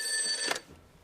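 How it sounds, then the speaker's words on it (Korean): A telephone bell rings sharply for about half a second, then cuts off into near silence. "이번엔 기다렸다는 듯 전화벨이 울리는데요"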